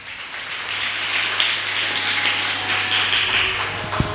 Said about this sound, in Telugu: గట్టిగా చప్పట్లు పెడదాం